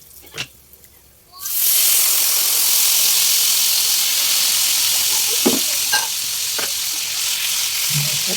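Corned beef with garlic frying in a pan, a loud steady sizzle that starts suddenly and keeps going, with scraping stirs over it and a voice speaking briefly near the start.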